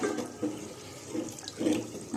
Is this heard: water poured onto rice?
yes